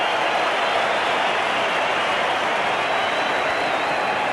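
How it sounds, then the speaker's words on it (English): Dense, sustained roar of a large cricket crowd clapping and cheering at a 1995-96 World Series Cup match, loud and unbroken throughout. "Listen to that crowd."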